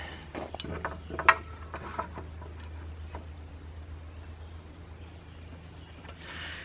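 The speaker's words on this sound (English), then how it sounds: "I'm just using my tape measure to mark where I want this 1 inch here" A tape measure handled and retracted during a picnic table restoration, with close mechanical ratcheting clicks and a sharp snap near the start, then quieter handling against a low steady hum.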